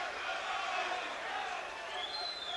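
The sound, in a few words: boxing arena crowd reacting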